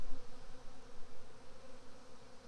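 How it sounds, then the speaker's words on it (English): Honeybees buzz around an open hive during a population build-up, a dense steady drone of many wings close by with no voices. "Wow, a lot of bees."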